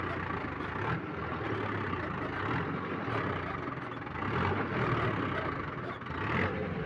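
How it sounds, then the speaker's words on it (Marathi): A tractor engine labours steadily in heavy field soil while ploughing, a continuous mid-pitched rumble that swells and eases slightly, with voices talking over it. "त्याच्यामुळं ट्रॅक्टर चालू आहे"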